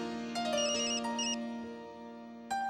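An incoming call's telephone ringtone rings out in a melodic, tonal burst, fades, then starts again briefly at the end, alone and at moderate level.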